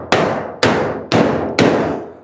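Four evenly spaced hammer blows ring out on sheet metal on a 1938 Cadillac body panel being shaped in a shop, each a sharp metallic clang that rings and decays before the next.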